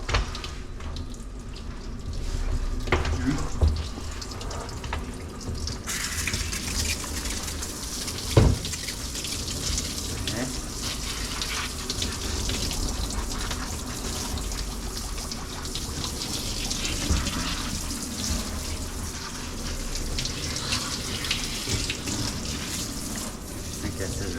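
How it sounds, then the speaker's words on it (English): Water runs steadily from a tap while a dog is rinsed during a bath, a continuous close splashing hiss with occasional knocks and faint voices in the background. "now let's rinse everything"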